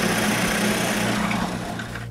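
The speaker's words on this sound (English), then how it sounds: "with the drilling guide, I drill all the necessary holes in them." A drill bores holes in wooden parts through a drilling guide, a steady high motor whine running continuously and close.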